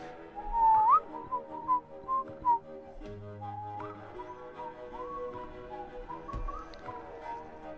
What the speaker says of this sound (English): Oh, the whistling song.